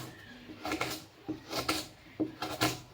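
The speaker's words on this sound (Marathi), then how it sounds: "आता बटाटा बारीक कापून घेणार" A potato being finely chopped with a knife on a board, with close, irregular thuds and scrapes in small clusters over quiet room noise.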